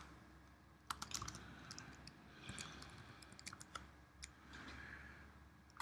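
Faint typing on a computer keyboard while entering dental appointment details, irregular light key taps in short runs over low background noise.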